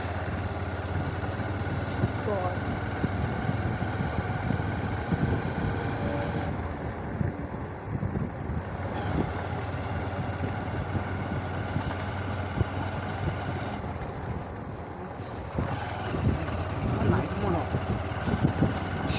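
Motorcycle engine while riding, a steady low idling drone running continuously underneath people talking, moderately faint and even throughout.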